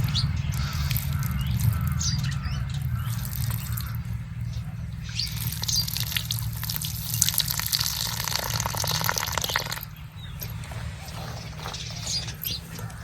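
Water splashes and swirls steadily as shelled ghevda beans are washed by hand, a continuous close gushing with small squelching and rustling touches, dipping briefly near the end.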